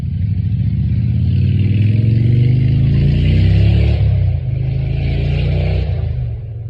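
A loud engine drones steadily, swelling as it nears and then easing off as it passes, much like a motorcycle going by outdoors.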